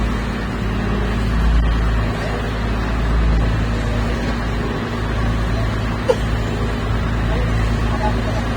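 A passenger boat's D15 engine drones steadily and loudly throughout on a crossing from Mauban to Cagbalete Island, Quezon, a deep continuous rumble with a faint click near the end; voices are buried beneath it.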